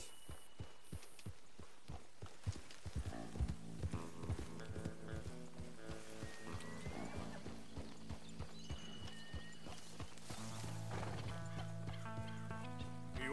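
Horses in the Red Dead Redemption 2 video game trot and gallop with rhythmic hoof clip-clops, and a whinny rises partway through, all set over swelling orchestral game music.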